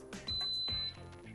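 A pressure cooker gives a single clear electronic beep while ribs are being cooked, heard over quiet kitchen handling noises.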